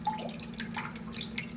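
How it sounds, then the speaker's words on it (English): Water bubbles up through the seat of a sand-filled faucet, making small gurgles and drips over a steady low hum. The sound is close and moderately quiet. "when you turn your supply on, you can see the water bubble up"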